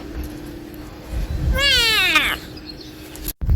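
A single drawn-out Minecraft cat meow, rising then falling over about a second, clear against a quiet steady hum, followed by a brief dropout.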